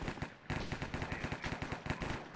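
Rapid automatic gunfire in the Minecraft Hypixel Cops n' Criminals game, a dense, even rhythm of close, loud shots that starts after a brief pause and runs without a break.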